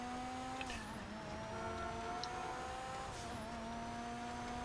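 A car driven in GTA Online, its engine holding a steady, continuous drone with gentle pitch shifts as it cruises, fairly loud and alone without talk.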